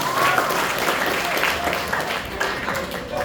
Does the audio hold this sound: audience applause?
yes